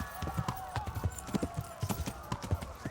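Galloping horse hooves in Kingdom Come: Deliverance, a fast steady clip-clop rhythm running close throughout over a tonal game soundtrack, with a faint whinny.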